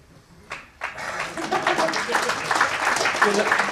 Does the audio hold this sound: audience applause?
yes